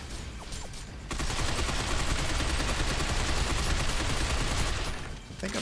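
Sustained heavy gunfire from a Binary Domain firefight, with dense automatic bursts roaring continuously after a quieter opening second and easing near the end, loud and close with no talk over it.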